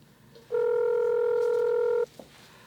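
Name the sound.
telephone dialing and ringing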